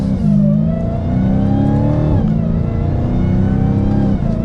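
A 2022 Dodge Challenger SRT Super Stock's supercharged V8 revs loudly and steadily, engine pitch rising and easing across a few seconds of gentle throttle on a track with a thin supercharger whine riding above the exhaust note.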